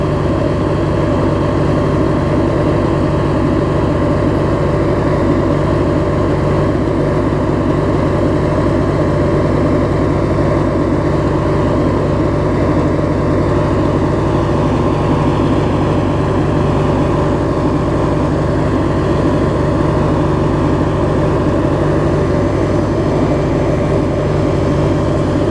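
A Craftsman grey opposed-twin riding mower engine runs steadily and loudly up close, a constant droning hum with no pauses and no voices.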